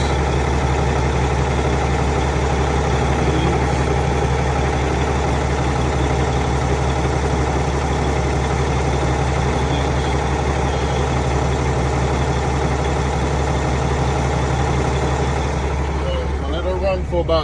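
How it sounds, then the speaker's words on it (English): A 2012 Freightliner Cascadia diesel semi truck engine with a low fuel pressure fault idles with a loud, steady low rumble that holds unchanged throughout, close by. "now the truck is idling"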